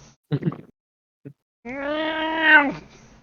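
A human voice imitates a cat, giving a couple of short breathy grunts followed by a long, drawn-out yowling caterwaul that rises and falls, loud and close.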